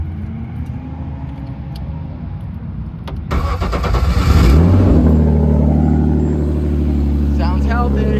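BMW M50 engine after a cracked cylinder head repair, cranking and catching about three seconds in, then settling into a steady, close idle in a garage.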